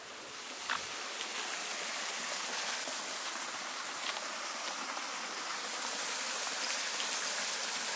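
A small waterfall beside a rock-built public toilet pours steadily, giving a continuous close rushing splash of water with no voices.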